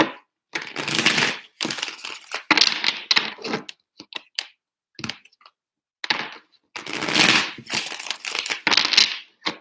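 A deck of tarot cards gets shuffled in three separate bursts, each a loud close riffling rattle broken by brief pauses and light taps, with no talking.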